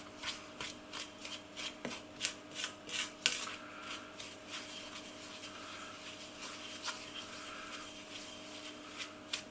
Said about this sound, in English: I'm using a sort of pressing action, stirring and pressing